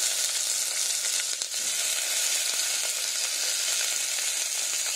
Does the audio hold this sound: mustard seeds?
yes